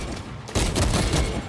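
Volt pistol gunfire in the video game Space Marine 2, a sudden loud burst of rapid shots starting partway in and continuing as a dense, crackling fusillade with booming impacts.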